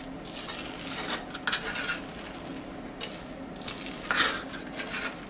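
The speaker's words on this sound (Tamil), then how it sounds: "இதை நல்லா மறுபடியும் கிளறி விட்டுறலாம்." Laddu sweet mixture with rose water stirred in a pan, a spoon scraping and swishing through it in uneven strokes alongside soft sizzling and an occasional light clink of metal.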